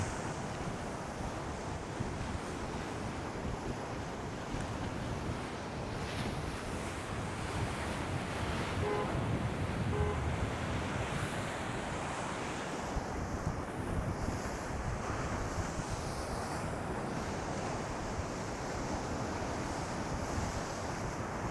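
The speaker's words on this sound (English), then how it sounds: "let me show you how choppy it is on the water here." Choppy sea waves splashing up against a harbour wall in strong wind, a continuous roar of surf and breaking water with heavy wind buffeting the microphone, steady and loud throughout with no talk.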